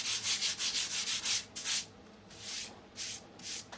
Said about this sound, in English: I'm just taking a finer grit sander, and I'm just not trying to distress at all. I'm just lightly going over